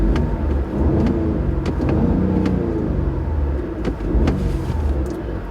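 A 2015 Audi S3 with an active exhaust valve system and sound actuator runs close by, a steady mid-pitched engine rumble with slight swells in revs and a few sharp mechanical clicks over it.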